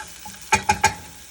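Shallot cooking in a pan over medium heat gives a soft sizzle, punctuated by three quick, close scraping stirs in a row, with no talking.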